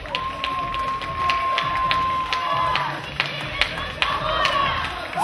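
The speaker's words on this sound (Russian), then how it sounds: "Давайте одарим девушек аплодисментами" Audience at the NAC Worlds 2012 bodybuilding championship in Kazan applauds the Ms. Figure 35 competitors: sustained clapping mixed with crowd cheering and scattered shouts, with a whistle-like tone held over the noise and sharp claps punctuating throughout.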